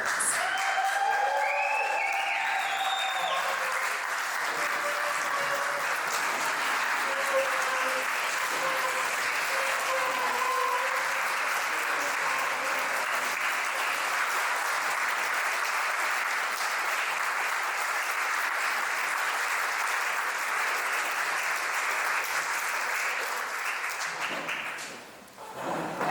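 A crowd at a Teacher of Excellence award ceremony applauds a Teacher of the Year winner, with sustained, even clapping lasting over twenty seconds, some voices faintly under it early on, before it cuts off abruptly at the end.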